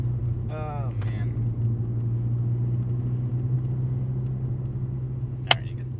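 Steady low engine rumble from a MK6 Golf R cruising on the road, heard from inside the cabin, with a brief voice near the start and a sharp click near the end.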